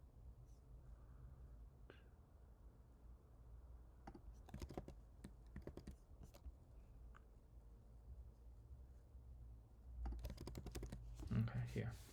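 Typing on a computer keyboard in quiet bursts of rapid clacking key presses, a close but soft pause between runs, with a faint murmur in the background.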